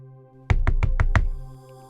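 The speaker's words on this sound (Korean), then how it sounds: "그리고는 조심스럽게 문을 두드렸어요." Five quick, evenly spaced knocks on a door sound close and firm over a faint background hum, followed by a brief quiet.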